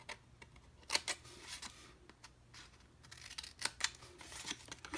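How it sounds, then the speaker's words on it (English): Scissors make a series of quiet, crisp snips while cutting the ends off a Smarties treat box, as isolated clicks spread over a few seconds. "we're going to snip off the other end as well"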